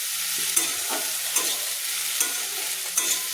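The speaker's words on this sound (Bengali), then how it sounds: "দিয়ে আমি ভালো করে কিন্তু আমি সবজির সঙ্গে মিশিয়ে নিচ্ছি" Ground spices, including cumin powder, stirred into vegetables frying in a pan for a spicy egg pasta, a steady bright sizzle with four evenly spaced scraping strokes of the spoon.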